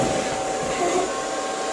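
An Infinuvo Hovo robot vacuum with wet/dry mop runs indoors, giving off a steady, even whirring hum at moderate distance with no talk over it.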